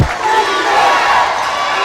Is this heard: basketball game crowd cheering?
yes